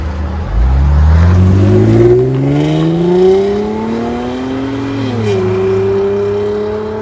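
A Chevy Camaro 3.6L V6 with a loud aftermarket exhaust revs up and climbs steadily in pitch, then holds a high steady drone, loud and close with no talk.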